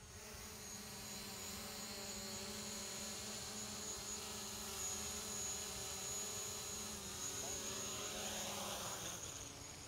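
A DJI Mavic drone landing outdoors gives off a loud, steady, high-pitched propeller whine that holds throughout with a slight shift in pitch near the end, under light background noise.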